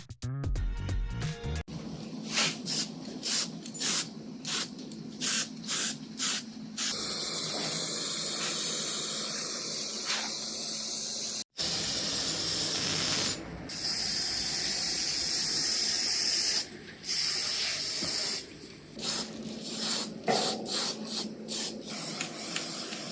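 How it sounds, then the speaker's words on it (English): Primer is sprayed from a can onto a rebar garden tool rack, a close, loud hiss coming in repeated bursts of varied length, some short and some sustained, separated by brief pauses. "Put a coat of primer on the tool rack"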